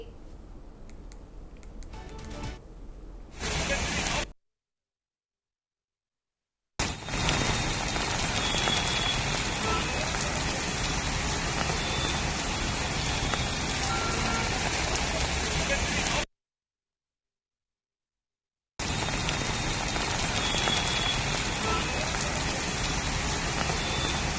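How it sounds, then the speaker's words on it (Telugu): Dense, steady heavy rain in Hyderabad hisses continuously, broken by two abrupt gaps of silence, with no voices over it. "నగరంలో ఏకధాటిగా వర్షం కుమ్మేస్తోంది"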